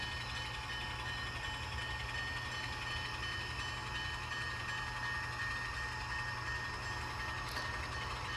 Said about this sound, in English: we've got another Norfolk Southern train coming